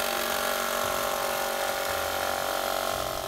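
Jigsaw cutting through a 2x4 board clamped in place: a steady, loud, high buzzing whine with a rattling undertone that runs continuously and alone, with no talking.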